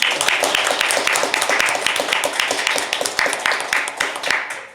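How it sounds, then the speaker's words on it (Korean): An indoor crowd claps at a sponsorship signing ceremony, a loud, sustained burst of many hands with crisp individual claps audible throughout, fading slightly at the end. "박수 한번 쳐주십시오."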